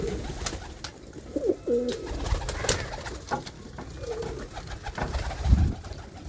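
Desi pigeons coo in a few soft, low, rounded calls at close range against a steady outdoor background, with no voices.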